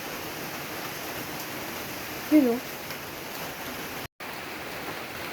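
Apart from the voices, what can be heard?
afternoon rain falling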